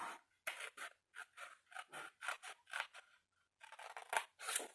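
Scissors cut through ribbon in a quiet room, a run of about fifteen crisp close snips in quick bursts with a short pause before the last few cuts.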